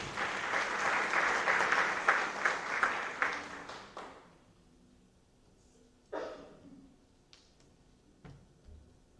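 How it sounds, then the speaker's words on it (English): An audience claps at a senior awards night, loud sustained applause for about four seconds that fades out, followed by a few scattered isolated claps in a quiet room. "I think that serves a round of applause"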